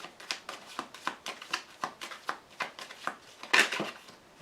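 Tarot cards shuffled by hand for a reading, a close, steady run of crisp riffling bursts with a louder flurry near the end, no voices.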